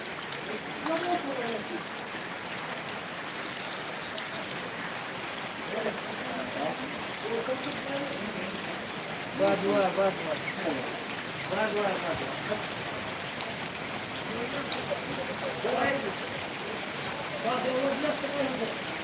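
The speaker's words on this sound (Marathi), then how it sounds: "या ठिकाणी बघू शकता का जोराचा पाऊस सुरू" Continuous unseasonal heavy rain pattering and hissing on surfaces around Natepute town, with people talking faintly at times beneath the downpour.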